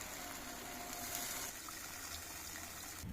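Water poured into a simmering curry of bata fish and water lily stems makes a steady gushing, splashing rush that changes tone partway through, close and moderately quiet, with no voices.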